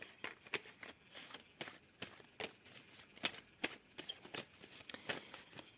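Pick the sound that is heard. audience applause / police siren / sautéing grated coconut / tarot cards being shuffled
tarot cards being shuffled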